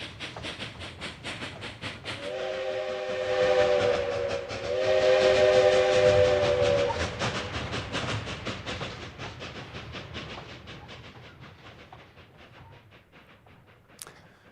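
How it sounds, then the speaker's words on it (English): A steam train whistle sounds in the background, two long sustained blasts with a brief break between them, over the steady rumble of the passing train during a group cycling ride. "The train in the background, just coming past our riders."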